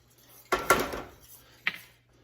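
A spoon knocks and scrapes in a pot of boiling Chex mix coating, a few sharp clanks and clinks spaced apart, close and clear.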